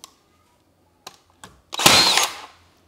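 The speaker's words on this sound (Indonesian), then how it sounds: "karakter penembakannya ya, itu bisa saya katakan mirip sekali dengan paku tembak yang pakai kompresor pada umumnya" A nail gun fires nails into wood, with a few sharp isolated clicks followed by one loud burst of the shot, close and alone without talk.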